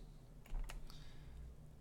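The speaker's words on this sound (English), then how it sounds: "Q on a keyboard." A few quiet keyboard key presses in quick succession over a low steady hum, close and faint.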